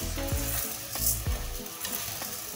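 Pearl barley stirred into softened sautéed onion in a pan gives a close, steady sizzle broken by several scraping strokes of a spoon, with a sharper hiss near the middle.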